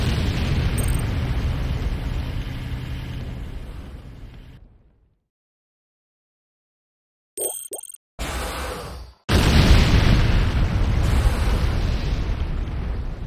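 Heavy building explosions in the video game Renegade as a Nod Tiberium Refinery is destroyed, loud rumbling blasts fading into silence, then short bursts and a final booming roar with crackling debris.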